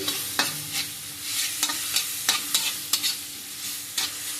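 Whole coriander seeds fry in a pan for a chapati-side bendekai (okra) palya, a steady crackling sizzle broken by repeated sharp stir scrapes at an uneven pace, close and fairly loud with no voices.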